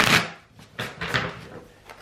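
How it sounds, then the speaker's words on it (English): Tarot cards are shuffled by hand in a few short, papery riffling bursts separated by brief pauses, close and fairly quiet, with no talking. "Two good shuffles."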